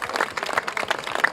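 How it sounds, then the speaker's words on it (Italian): A beauty pageant audience at the Miss Riviera del Brenta selection in Calcroci bursts into a brief, lively round of applause, many hands clapping close and busy with no speech on top. "io farei un applauso grande come una casa a tutte queste ragazze qua"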